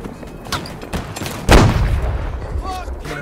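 A single heavy boom of cannon fire in Holdfast: Nations At War blasts midway through, rumbling out over scattered smaller shots and clatter.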